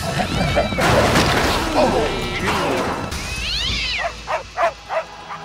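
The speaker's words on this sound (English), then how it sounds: "Red Dog and Red Cat are going at it." Frantic dog and cat scuffle from the 2011 film Red Dog, with yowling cat cries and loud crashing bursts, followed by a few short sharp dog yelps near the end.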